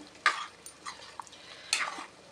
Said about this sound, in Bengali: এবার নেড়ে দেবো ভালো করে